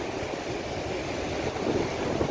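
Big ocean waves break into shallower water, a continuous loud rushing wash of surf and spray with a slight swell in intensity toward the end.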